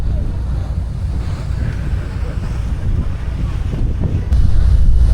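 Wind buffets the open top deck of a fast ferry between Playa del Carmen and Holbox, a loud continuous rumble with the boat's water rush underneath, growing louder near the end.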